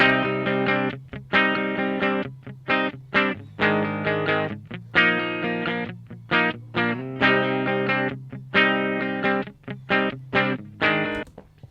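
Electric guitar through a Fender Blues DeVille Clean amp model, playing bright, rhythmic chords in short strummed bursts with a lighter, mostly clean tone and a touch of effects.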